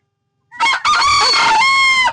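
A rooster crows once on a rural farm, loud and close, in a single drawn-out cock-a-doodle-doo that follows a short opening note and ends abruptly, with silence before it.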